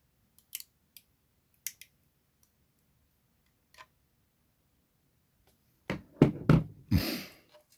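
Scissors snipping a ribbon away from a 3D print: a few sparse, sharp close clicks, then a quick burst of several louder cuts near the end.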